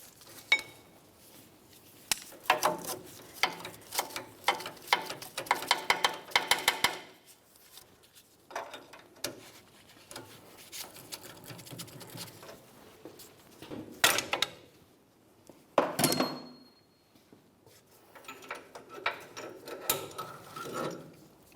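A wrench clicks and ratchets while tightening the inner tie rod end on a 2004-2015 Nissan Titan, in bursts of close metallic clicking separated by short pauses, with no talking.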